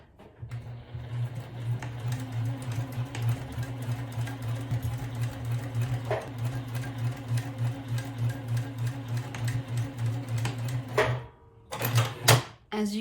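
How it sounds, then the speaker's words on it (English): A sewing machine stitches the corner of a fabric lunch bag, a steady close-up mechanical hum with rapid rhythmic needle clatter running without pause, then stopping near the end with a few handling clicks. "Now I'm going to start to sew the other side of the box corner."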